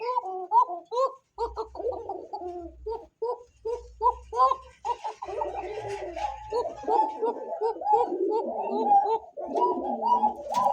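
Pigeons in a cage coo repeatedly in throaty, rolling bursts, close and loud, with short pauses between calls and a low rumble underneath.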